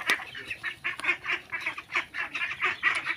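Ducks quack for food in a rapid, continuous chorus of overlapping nasal calls, close and fairly loud, with no talking over them.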